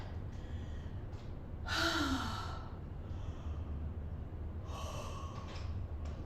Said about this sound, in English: I'm sorry I'm yawning.